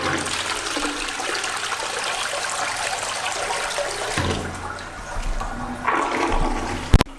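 A toilet flushes in a small bathroom in a budget hotel room in Boca Chica, Dominican Republic, a loud continuous rush of water that drops off and turns into a gurgling, trickling refill near the end.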